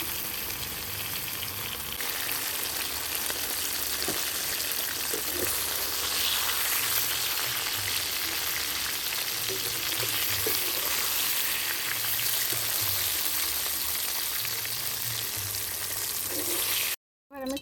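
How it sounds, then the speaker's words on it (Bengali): Banana pieces frying in oil in a pan, a steady dense sizzle filling the whole stretch with faint stirring scrapes, close and continuous until it cuts off at the very end. "আর একটু আমি তেল দিয়ে দিচ্ছি। কলাটা ভালো করে কষা হয়ে গেছে"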